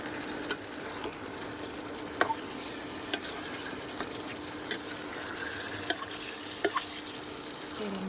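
Meat and potatoes stir-fried in plenty of oil in a pan, a soft continuous sizzle punctuated by about a dozen sharp spatula scrapes and clacks at an irregular, unhurried pace.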